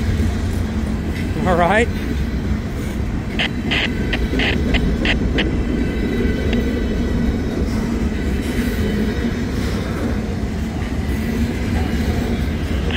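A freight train rolls past on the rails with a heavy, continuous rumble and clatter, and a brief wheel squeal early on; a voice speaks briefly over the din.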